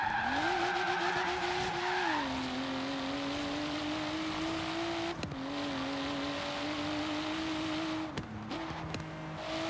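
A Toyota Supra in the Forza Horizon racing game spins out, its engine drone steady while the tires squeal continuously across the whole stretch, with a few sharp knocks and a dip in pitch near the end.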